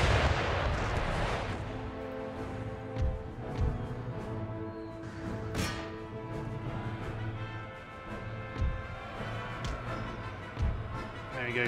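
Massed musket volleys crack out in Empire Total War as British and Portuguese line infantry trade fire. Repeated booming bursts roll out irregularly over a sustained orchestral music bed.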